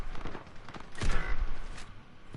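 Bursts of gunfire ring out in an online multiplayer shooter match, scattered shots over a busy background, with a heavier cluster of blasts midway.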